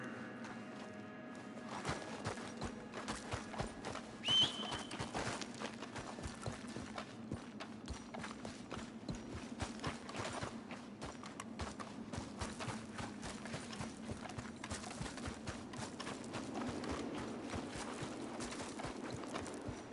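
Horse hooves clip-clop steadily in Red Dead Redemption 2, a continuous rhythmic patter of footfalls at moderate volume over a low ambient rumble.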